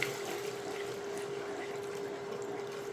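Milk poured into a pan of flour roux while whisking for a lasagna sauce, a steady soft liquid stream with light whisk scraping throughout, fairly quiet.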